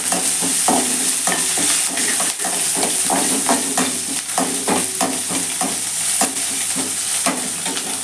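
Urad dal, green chilli and curry leaves fry in a kadai, giving a steady close crackle overlaid with repeated scraping strokes of a stirring spoon, with no voices.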